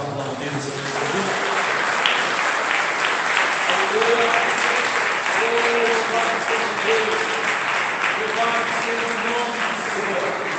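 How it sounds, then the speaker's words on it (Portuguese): A church congregation applauds in a long sustained wave of clapping that stays dense and loud for about ten seconds, with voices rising faintly underneath. "vamos aplaudir o Senhor."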